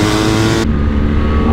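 A BMW R1300GS motorcycle engine pulls hard under acceleration, a loud, close, continuous roar that carries on by itself with no talking.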